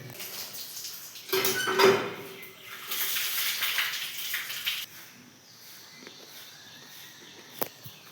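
Ripe dates being washed in water: splashing and sloshing of water with a few knocks and a clatter of a container, close by, busiest in the first seconds then quieter.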